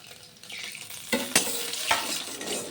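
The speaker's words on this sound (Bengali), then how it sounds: "সেই তেলের মধ্যেই বাকি মাছগুলো আমি দিয়ে দিচ্ছি একেবারে লাল লাল করে ভেজে তুলে নেব" Pieces of rui fish being laid into hot oil in a pan, bursting into a loud crackling sizzle after a quiet start, with a few sharp spatters and a steady frying hiss continuing, close up and without talk.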